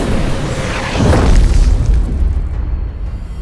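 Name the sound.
meteor falling to Earth and impacting, animated film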